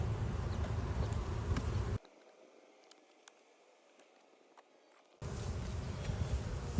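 Honeybees fan at an open hive during an inspection, a dense, loud buzzing drone that drops to near silence for about three seconds and then returns just as strong.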